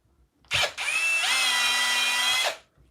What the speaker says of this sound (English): Pull it tight. I can drill.